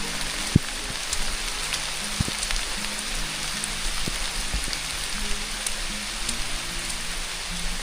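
Steady rain pattering on surfaces outdoors while the sun is out, a continuous dense hiss with scattered louder drops and a few sharp taps, no voices.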